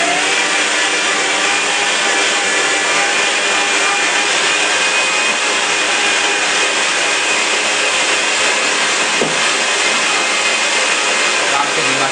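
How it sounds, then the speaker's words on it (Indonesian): An electric meat grinder grinds chicken meat mixed with garlic and fried shallots for meatballs. Its loud, steady motor whir runs unbroken the whole time, with no talking. "yang akan kemudian saya giling dulu dengan mesin giling ini"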